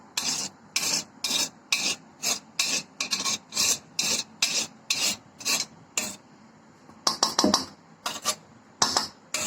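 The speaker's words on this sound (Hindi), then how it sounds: "सारा खुरच लेंगे, काला काला नहीं निकालेंगे।" A utensil scrapes browned ghee residue from the bottom of a pan after homemade ghee is made, giving close, rough rasping strokes in a quick, uneven rhythm with short pauses between bursts.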